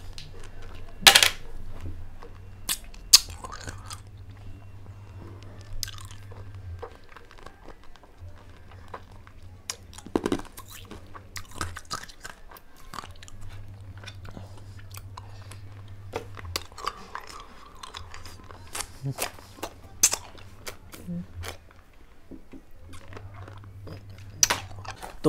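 Ice cubes are crunched and bitten in scattered, irregular crisp bursts at close range over a low steady hum, with a few soft clinks between.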